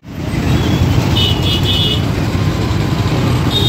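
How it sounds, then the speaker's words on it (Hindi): Dense, heavy road traffic at rush hour, a steady loud rumble of cars, buses and engines close by, with faint high horn-like tones briefly poking through, no talk. "समय ट्रैफिक बहुत ज़्यादा है एकदम"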